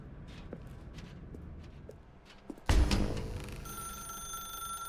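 In The Stanley Parable video game, a few soft footstep-like taps give way to a loud telephone bell that bursts in suddenly and keeps ringing with a bright metallic tone.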